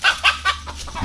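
A chicken at a market gives three quick loud clucks close by, followed by softer clucking.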